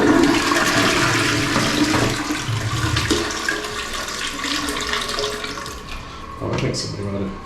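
A bidet sprayer in a Bangkok apartment bathroom gushes brown water at strong pressure into a toilet, a loud, close, rushing spray that wavers and eases a little, with faint voices at times.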